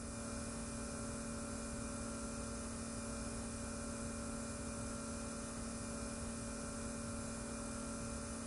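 A helicopter in the video game Saints Row The Third, a steady whining engine hum with a constant tonal drone, moderately loud and unchanging throughout.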